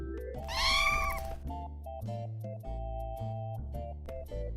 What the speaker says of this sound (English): 2 months later, Amanda gives birth to 4 little kittens